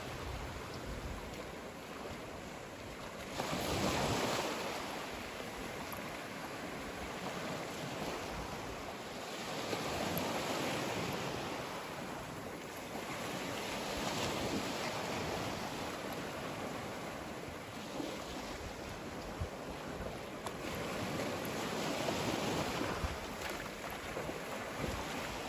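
Ocean waves washing onto an island beach in the Ten Thousand Islands, soft surges swelling and receding every few seconds under steady wind buffeting the microphone.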